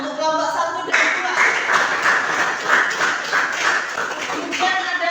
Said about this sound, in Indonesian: tepuk tangan untuk kelompok 1 dan 2